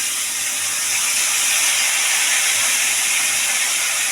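Ground spice paste hits hot oil in a pan and sizzles with a steady, loud, even hiss that holds without a break, close up and with no voices.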